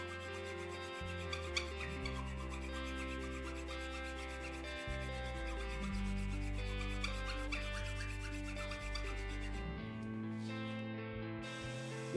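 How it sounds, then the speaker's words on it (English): Wooden poster frame pieces with half-lap joints held in a machinist vise and worked with a file, a steady rasping rub repeating in long strokes, close and moderately loud, alone without talk. "cleaned up with a chisel"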